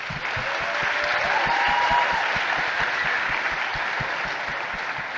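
Crowd applause rises and holds at a talk event on big data, a broad continuous clatter of many hands, moderately loud and fairly close, fading slightly toward the end.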